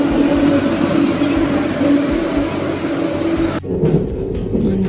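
A train bound for the airport in Malaysia rolls along with a loud, steady rumble and a sustained tonal hum, which drops away abruptly near the end, leaving quieter clattering.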